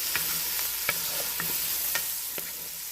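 Chili ingredients with chopped onion frying in a pan, a soft constant sizzle broken by several sharp spoon scrapes and clinks at a loose, irregular stirring rhythm.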